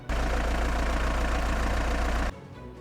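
A mechanical engine runs steadily at idle, a loud continuous drone with a low throb, then cuts off abruptly near the end.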